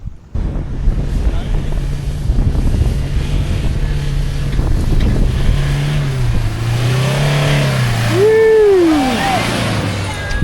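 A large van's engine drones and revs while stuck in soft beach sand coming off Pebbly Beach in Yuraygir National Park, loud and close under heavy wind buffeting, pitch rising and falling with a whining sweep near the end.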